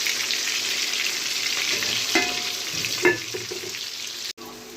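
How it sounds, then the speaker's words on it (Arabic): Breaded cutlets and potatoes fry in hot oil with a loud, dense, steady sizzle, a few soft stirring knocks, and an abrupt cut near the end. "بقلي البانيه اهو. تمام. والبطاطس بتتحمر"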